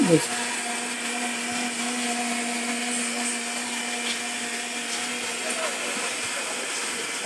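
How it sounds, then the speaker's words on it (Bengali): A blender whirs loudly and steadily while blending lemon mint juice, a constant high-pitched hum with a faint whine, running without pause. "তারপর এখন আমি ব্লেন্ডার ইউজ করতেছি।"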